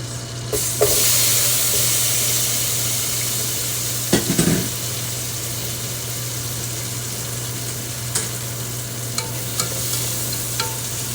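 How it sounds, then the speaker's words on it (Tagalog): Shrimp fry in butter with tomato in a hot pan, giving a steady close sizzle. A few scraping stirs and knocks break through it now and then, and no one speaks. "Shrimp naman ang ating lutuin. So, lagyan muna natin ng butter."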